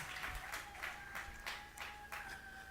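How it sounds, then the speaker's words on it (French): A church congregation claps loudly for the Lord in a sustained, dense patter with several louder bursts, and a faint steady tone hums underneath. "Applaudissez très fort pour le Seigneur"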